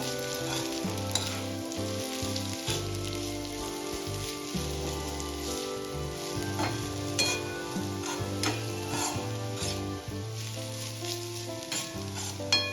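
Sautéed sweet potato being stirred into a sweet potato kheer mixture in a pan, a soft continuous sizzle and scraping stir running throughout beneath steady background music.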